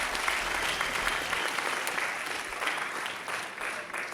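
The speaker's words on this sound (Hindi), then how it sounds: "जोरदार तालियां खरबंदा साहब के लिए" Audience applause for Sushil Kharbanda, a finalist on a fair-stage talent show, a dense, steady wash of clapping from a large crowd that carries on without a break.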